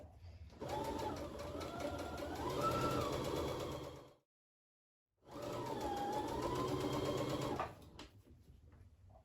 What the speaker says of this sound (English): Make sure not to sew over top of your pins.